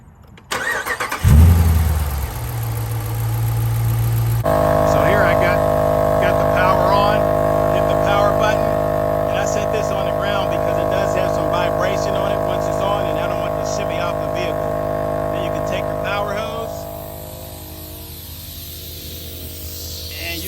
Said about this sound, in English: instantly you'll hear the air pump engage and you will have air